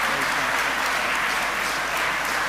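Continuous crowd applause at the South Australia Australian of the Year Awards, a dense, even roar of many hands clapping at moderate loudness throughout.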